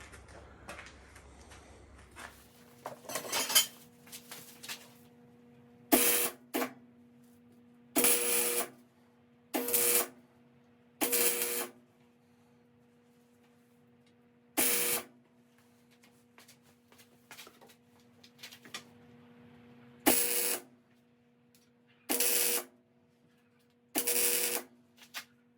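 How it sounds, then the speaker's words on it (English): Tack welding the steel tube frame of a DIY 224cc mini side-by-side built from a junk four-wheeler, with about ten short, loud, separate welding bursts spaced by quiet pauses and no speech. "I'll tack weld that in place."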